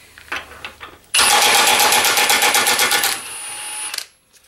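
A Milwaukee M18 FUEL 2763-22 high-torque impact wrench loosens a bolt torqued to 80 foot-pounds, bursting into a loud, rapid hammering rattle for about two seconds, then a steadier whir before stopping, with a few handling clicks before.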